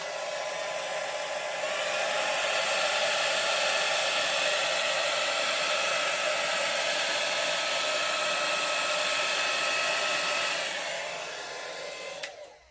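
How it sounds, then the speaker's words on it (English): A hair dryer blows with a loud, steady whooshing roar close by, drying paint on tiles, running continuously before switching off with a click at the end. "I don't like my hairdryer getting dirty."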